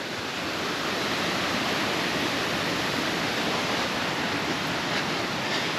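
Waterfalls at Šipovo rush in a steady, broad hiss of falling water, constant and enveloping, with no voices.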